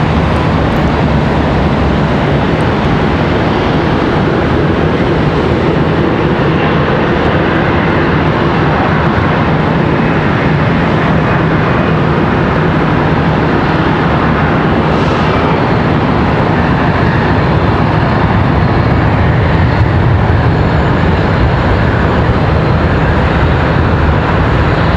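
A Frontier Airbus A321neo touching down on a far runway at Charlotte Douglas, heard as a steady, broad engine roar that holds level throughout with a slight swell near the end.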